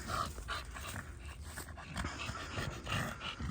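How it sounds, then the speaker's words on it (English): An English bulldog pants steadily and close by, quick rhythmic breaths continuing throughout with no voices. "That's my English bulldog."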